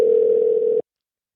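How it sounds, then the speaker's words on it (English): A telephone line gives a single steady electronic tone while a call is being placed. It sounds loud and close for under a second, then cuts off abruptly into silence. "So let's get Kelly on the phone."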